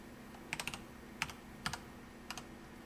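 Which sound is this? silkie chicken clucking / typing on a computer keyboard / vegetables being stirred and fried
typing on a computer keyboard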